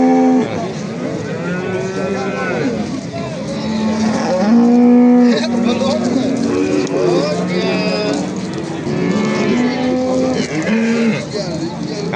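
Cattle lowing repeatedly at a busy livestock bazaar, with a pregnant cow among the animals for sale; long, loud moos overlap one another almost continuously against the market crowd.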